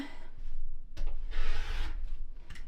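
Quilt fabric being trimmed away: a few close, rough rubbing and slicing strokes, each lasting a fraction of a second, with brief handling noises between them and no talking.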